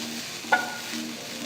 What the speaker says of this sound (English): Saute the vegetables for about 5 minutes.